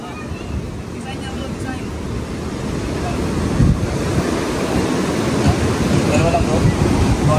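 Rushing ocean surf at high tide with heavy wind buffeting the microphone, a continuous loud roar that swells slightly.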